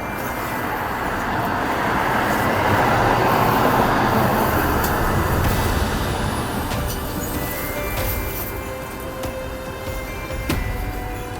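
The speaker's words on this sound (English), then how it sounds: "those trains have gone by" A train rumbles past nearby, a long broad roar swelling and slowly fading, with scattered clanks and rattles of passing cars.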